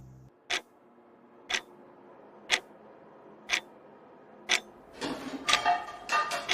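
Steady, sharp clock ticks about once per second, five in a row, then a busier cluster of clicks and rattles toward the end.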